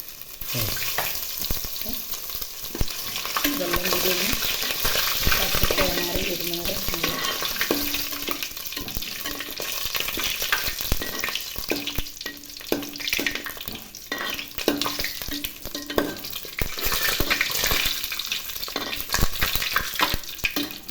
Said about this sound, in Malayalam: അതിൻ്റെ കൂടെ നമുക്ക് ഇഞ്ചി ഇടാം